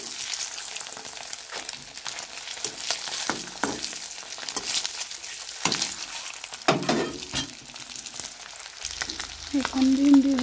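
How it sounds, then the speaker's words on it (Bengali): Eggs frying in hot oil with turmeric, a continuous close sizzle broken by stirring and scraping sounds, and a faint hum toward the end. "ডিম দিয়ে ভেজে নেবেন তেলের মধ্যে"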